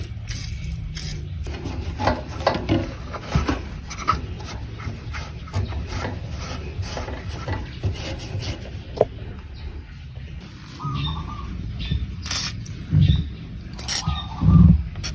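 Someone scrapes and wipes around the diesel fuel tank cap area of a Mitsubishi Pajero Sport with a stick and cloth. Close, irregular rubbing and scratching with small knocks runs throughout, and no one speaks.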